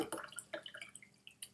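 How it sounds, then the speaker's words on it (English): Water poured from a bottle into a drinking glass beside a whiskey tasting, a quiet trickle with splashy bursts and drips over about a second and a half, close by and fairly soft. "Just pour me some water here."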